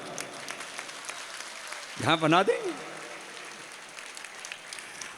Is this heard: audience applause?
yes